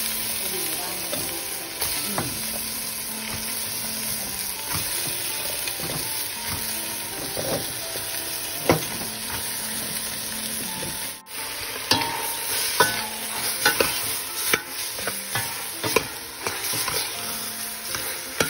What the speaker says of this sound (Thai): แล้วก็ทอดพริก